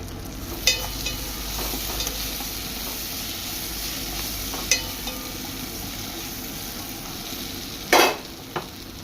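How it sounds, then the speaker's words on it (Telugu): Chopped tomato pieces fry with dried prawns in a pan, making a steady close sizzle and hiss. A few scrapes and clinks from stirring stand out now and then, and no one speaks. "అవి వేగాక అందులో చిన్నగా కట్ చేసుకున్న టమాటా ముక్కలు వేసుకోవాలి"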